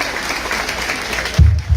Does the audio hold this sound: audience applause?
yes